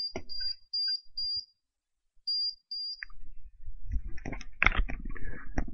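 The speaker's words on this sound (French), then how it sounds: "je vais mettre sous tension la MM2001 et vous allez écouter les bips" Power-on beeps from an MM2001 unit: a run of short high-pitched electronic beeps, a pause, then two more beeps, followed by clattering handling noise near the end.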